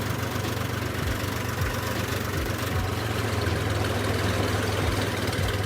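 Steady low diesel drone of a tractor-attached concrete lift mixer machine running in first gear, a continuous heavy engine hum with faint periodic knocks and vibration, close and even throughout with no talking.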